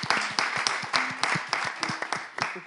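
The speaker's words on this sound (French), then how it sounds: "On applaudit Ève." An audience applauds the first presenter at a live show, a brisk, dense burst of many hands clapping close by, with no talk over it.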